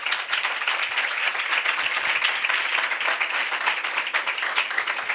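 A congregation at a Christian church service applauding together, a dense, even burst of many hands clapping that holds steady and fairly loud from start to finish.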